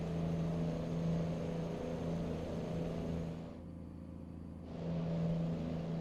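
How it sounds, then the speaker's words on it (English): Jake brake on a Mack Superliner truck in American Truck Simulator, a steady low rhythmic engine-braking drone with a chopping, helicopter-like pulse that dips briefly midway, then resumes, heard alone without talk. "I just can't get over this Jake brake."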